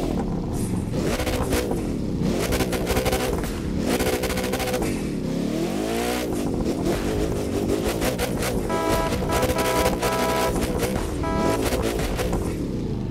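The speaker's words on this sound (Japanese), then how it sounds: "ではですね、一旦エンジンかけてみましょう" Koenigsegg Agera One:1 hypercar engine firing up in The Crew 2 racing game, a loud sustained roar with revving swells and clattering layers, continuous throughout with no voices.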